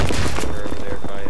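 Rapid thumping grenade launches ring out in Battlefield 3 on the Grand Bazaar map, a quick cluster of punchy bursts in a noisy firefight, mixed with a voice talking.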